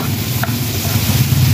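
Chopped onion sizzles loudly as it is sautéed in a pan at an outdoor cooking setup, a steady close frying hiss with a brief stirring scrape in the middle.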